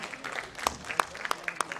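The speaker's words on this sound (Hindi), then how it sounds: "इस मंच के लिए जोरदार तालियां होनी चाहिए दोस्तों" A panel discussion audience offers scattered applause, a handful of distinct sharp claps at uneven intervals over a quiet, murmuring room background, fairly faint overall.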